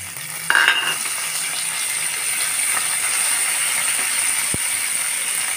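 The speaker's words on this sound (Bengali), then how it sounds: "লবণটা দিয়ে আমি মশলাটা ভালোভাবে কষিয়ে নেব।" Spices, bay leaf, cardamom, cinnamon, dried chili, chili paste and ginger paste frying in oil in a pan, a steady loud sizzle and hiss throughout, with a brief stirring scrape near the start and no talking.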